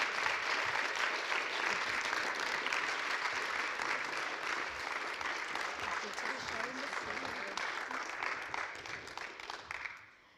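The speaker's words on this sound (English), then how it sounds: "please join me in giving a warm round of applause" An audience gives a warm round of applause for journalist and Nobel laureate Maria Ressa, a thick sustained clapping that holds loud for about ten seconds before fading out at the end, with some voices underneath.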